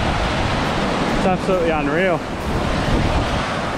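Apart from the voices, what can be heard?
waterfalls on the road to Cape York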